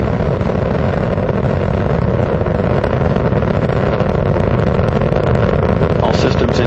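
The main engines of Space Shuttle Atlantis roar during launch while throttling down through the lower atmosphere, a loud, dense, continuous rumble heard at a distance with no letup.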